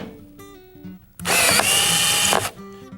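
A power drill bores out stripped screw holes through a hinge, whining up in one loud, sustained burst of just over a second. Quieter mechanical whirring comes before and after it.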